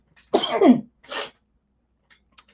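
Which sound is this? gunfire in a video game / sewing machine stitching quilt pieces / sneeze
sneeze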